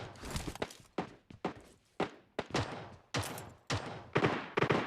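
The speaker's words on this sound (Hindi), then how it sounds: "इतने में ही सामने की कंपाउंड से काफ़ी ज़्यादा फायरिंग की साउंड आ जाती है।" Gunfire and footsteps in the BGMI battle-royale shooter: a rapid series of sharp shots and thumping steps, irregular bursts punctuating the whole stretch, fairly close and crisp, with no talk.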